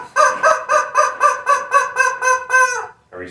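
A rubber chicken squawks in a workshop, about ten rhythmic honking squeezes in a row, loud and close, ending in a longer drawn-out squeal.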